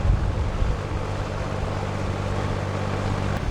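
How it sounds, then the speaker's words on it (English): Wind gusts buffet a cruising boat moored in a marina, a steady broadband rush with a low droning hum underneath, continuous and fairly close, with no talk. "It's a bit windy today."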